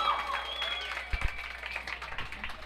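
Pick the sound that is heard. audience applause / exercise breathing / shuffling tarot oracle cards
audience applause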